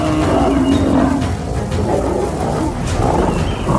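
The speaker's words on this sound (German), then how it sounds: "Das Brüllen des Löwen vermischte sich mit dem wütenden Brüllen des Büffels." A lion and a buffalo fighting in the Botswana wild, loud overlapping roars and bellows that rise and fall in rough, growling bursts throughout, close and continuous.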